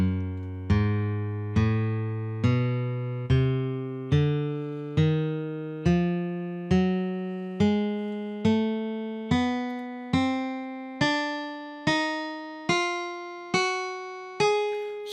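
A guitar plays a C whole-half tone diminished scale, sixteen single plucked notes climbing evenly about one per second, each ringing and decaying before the next, loud and alone.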